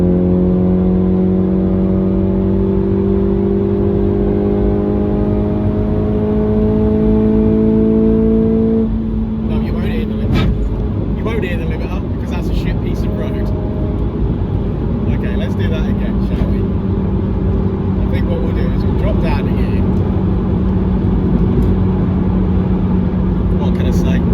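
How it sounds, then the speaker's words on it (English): A Honda Civic Type R FN2 engine revs hard, its steady rising whine climbing for about nine seconds before breaking into a rougher, choppier roar that continues loudly inside the car. "See if you can hear the limiter."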